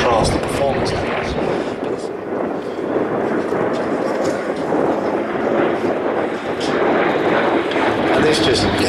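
A vintage warbird flies its display at the Flying Legends airshow, a loud, steady engine roar filling the air while a commentator talks over it throughout.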